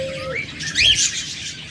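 Budgerigars, cockatiels and lovebirds calling among caged pet birds for sale, with a short whistled note followed by a louder burst of bright chirps and squawks, close and alone.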